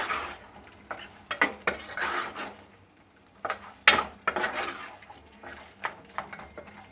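A pot of village-style mutton masala curry is stirred with a utensil, producing irregular scraping and clinking strokes with a soft sizzle underneath, fairly quiet and close.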